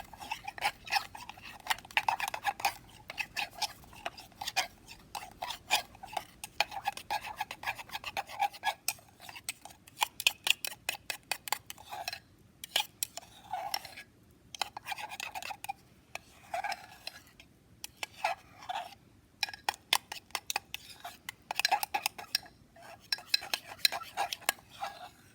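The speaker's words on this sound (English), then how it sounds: "You want to make sure that you're getting all of the ingredients scraped off the edge and that everything is coming together and mixed up" A utensil scraping and stirring flour and other mug pizza ingredients inside a mug, with bursts of quick, gritty scratches and clinks in an uneven rhythm, close and clear with short pauses between strokes.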